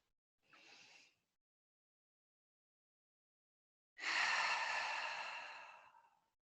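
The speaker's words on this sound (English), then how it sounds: "we'll finish up with one last round of breath. Inhale and exhale when you're ready." Two breaths taken during a trauma-informed yoga session for anxiety relief: a short, soft inhale is followed after a long pause by a deep, breathy exhale that fades out slowly. Close and quiet, with no talking.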